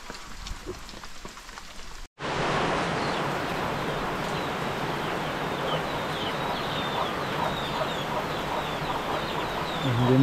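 Chickens clucking faintly through steady heavy rain on a roof, with a brief dropout near the start and a louder burst at the end.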